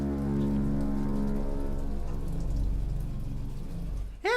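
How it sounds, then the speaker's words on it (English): Steady rain hisses down over an outdoor scene in the video game Bioshock Infinite, a dense, even patter heard alone and close, cut off abruptly by a brief swooping sound at the very end. "Oh, it sounds like it's raining now."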